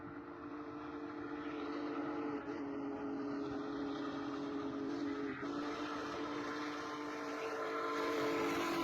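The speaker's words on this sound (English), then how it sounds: "the train finally arrives at 9:40 a.m. as it passes through Henderson" A steam train runs through Henderson, Colorado, as a steady, faint, distant mechanical rumble with a soft hiss and no talking.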